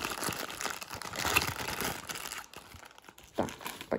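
Thin plastic packaging bags crinkle and rustle in quick, close bursts while Schleich toy horses are unwrapped, the crackling dense at first then thinning into scattered crunches.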